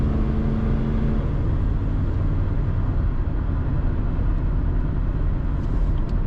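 A 1994 Chevrolet Silverado K1500 pickup with automatic transmission drives along, its engine giving a steady, loud, continuous rumble with road noise from inside the cab.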